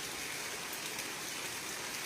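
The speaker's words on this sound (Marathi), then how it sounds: "गेल्या आठवडाभरापासून अवकाळी पाऊस मोठ्या प्रमाणात कोसळतो आहे" Unseasonal rain falls in a steady, even hiss in rural Maharashtra, a continuous outdoor downpour at moderate loudness with no talking.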